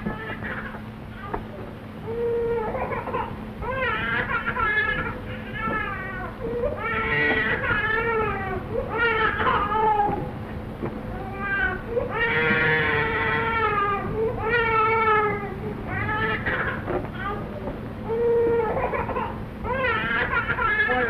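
A baby cries repeatedly in rising, wailing bursts with short pauses between, close and fairly loud over a faint hum.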